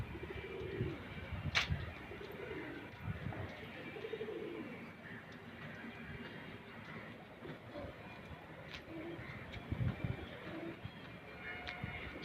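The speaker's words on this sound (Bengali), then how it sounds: "একটা সাদা পায়রা এসছে," A white pigeon coos on a city rooftop in the late afternoon, soft repeated low coos recurring through a steady outdoor background with distant train-like rumble.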